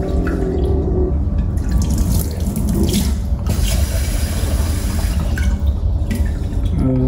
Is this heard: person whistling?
no